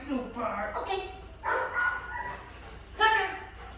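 Tucker, a dog in a marker-word training session, gives short yips and whimpering barks in bursts, close by and mixed with an encouraging voice.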